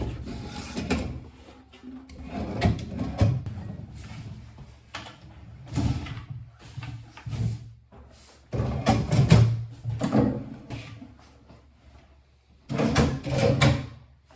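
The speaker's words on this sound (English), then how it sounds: "Now these are soft close drawers, easy to remove." Soft-close bathroom vanity drawers slide open and shut several times, each pull giving a rumbling glide followed by a soft cushioned stop, close and without talk.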